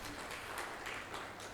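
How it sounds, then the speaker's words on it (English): Audience at an event on digital governance in Odisha applauding the organising team, a faint, steady wash of distant clapping with no voices over it. "So, a big round of applause for them."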